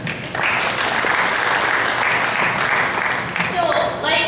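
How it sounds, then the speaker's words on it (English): An audience claps loudly and steadily at a non-profit careers event, a dense, sustained wash of applause that starts abruptly and holds strong to the end, with a few voices rising briefly near the close. "So clap for yourselves, actually."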